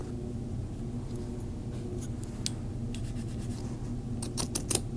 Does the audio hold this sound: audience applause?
no